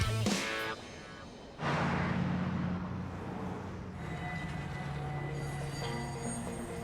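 Freight train cars roll through a busy rail hump yard near Chicago, a loud rumbling rush with metallic clanks, easing into a steady grinding roll with faint wheel squeal.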